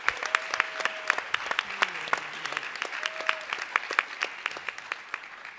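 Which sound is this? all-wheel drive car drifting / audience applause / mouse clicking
audience applause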